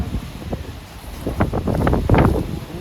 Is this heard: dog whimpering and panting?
no